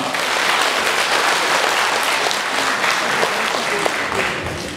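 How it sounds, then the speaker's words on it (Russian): A crowd at a Russian political campaign event applauds steadily, a dense wash of clapping that holds at an even, fairly loud level throughout. "Но аплодисменты всем-всем-всем вам!"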